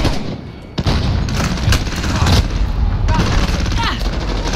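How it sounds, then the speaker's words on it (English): Rapid bursts of automatic gunfire in the shooter game Modern Warfare, loud and close, repeated volleys crackling across the whole stretch after a brief lull at the start. "Stop shooting at me!"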